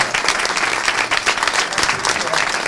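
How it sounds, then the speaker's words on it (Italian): An audience at a Women's Day celebration in Italy claps in a steady, dense round of applause that fills the whole stretch at an even, moderate loudness. "Facciamo un applauso a Giancarlo."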